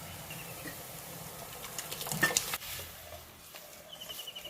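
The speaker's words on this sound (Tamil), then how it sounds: "இப்போ பாருங்கள் பருப்பு சேர்த்துட்டு நம்ம நல்லா கலந்து விடலாம்" Brahmi spinach greens being stirred together with mashed lentils in a pan, a soft sizzle rising into a brief burst of wet scraping and stirring near the middle before settling again.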